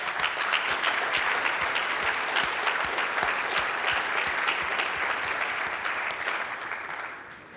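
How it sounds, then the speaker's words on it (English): A conference audience applauds a presenter after an AngularJS prototyping talk, a steady burst of many hands clapping that holds for several seconds before tapering off at the end. "So let's give him a round of applause"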